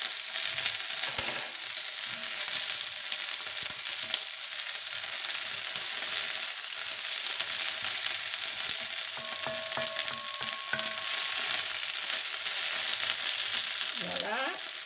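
Chorizo sizzles in a pan alongside meat for paella, a steady close frying hiss throughout with occasional scraping stirs and light clinks of a utensil.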